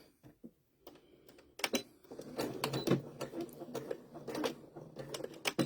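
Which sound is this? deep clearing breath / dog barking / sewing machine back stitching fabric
sewing machine back stitching fabric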